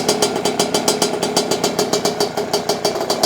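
A Puch Maxi moped fitted with a 70cc kit engine idles close by, a buzzy two-stroke putter with a quick, steady pulsing rhythm, alone and fairly loud.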